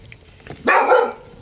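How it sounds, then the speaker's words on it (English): One sharp, close bark from a dog, loud and alone against a quiet room. "Quit barking."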